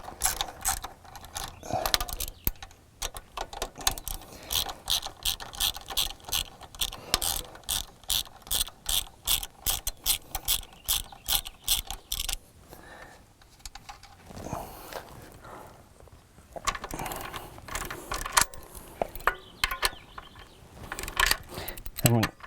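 A ratchet loosening a bolt on 2005 Suzuki GSX-R750 motorcycle parts, rapid close clicking in steady bursts of pawl ticks, pausing briefly midway before resuming with some clanking of tools.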